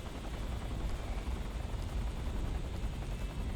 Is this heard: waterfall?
no